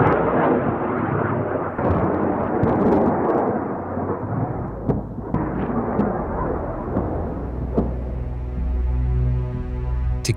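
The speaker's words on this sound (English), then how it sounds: "On impact, the fuse activates and detonates the warhead, inflicting damage on the target." An AH-64 Apache rocket warhead detonates on impact, a deep booming rumble that rolls and fades into a low lingering throb.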